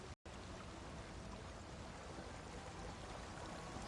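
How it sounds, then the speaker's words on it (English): A waterfall in The Elder Scrolls Online gives off a steady, full-band rush of water that runs unbroken the whole way through, apart from a split-second dropout near the start, with no talk over it. "It's a nice waterfall."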